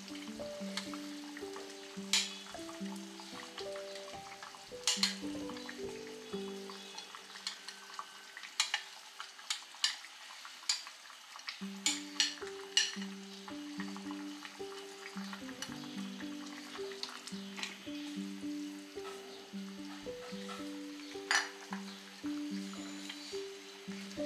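Yogurt spice masala is stirred into mutton in a pan for rogan josh, quiet sizzling with scattered scraping and clacking stir strokes under soft background music.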